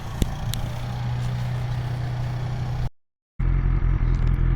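A 2020 BMW S1000XR motorcycle idles steadily with a low engine drone, cuts out briefly, then comes back loud and close as it sets off.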